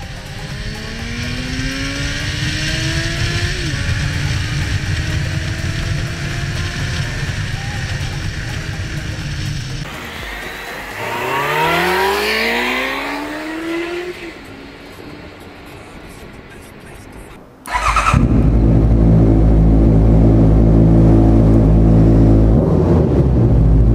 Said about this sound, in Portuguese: eu vou instalar isso aqui na moto e vou mostrar pra vocês como é que fica o som dela original